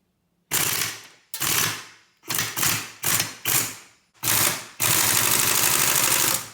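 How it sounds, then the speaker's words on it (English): Impact wrench bursts spinning off clutch spring bolts on an Arctic Cat 400 manual ATV engine during bottom-end disassembly, seven loud close rattling bursts, the last one long and sustained, with no talking. "unbolt these bolts around here for the springs on the clutch and take that off"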